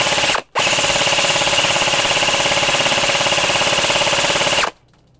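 A Lone XPR SDK airsoft rifle fires on full auto in two bursts, a brief rattle and then a long rapid stream of shots close up, ending abruptly.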